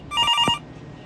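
A telephone bell rings in a short burst of bright electronic trills lasting about half a second, loud and close, then stops into quiet background.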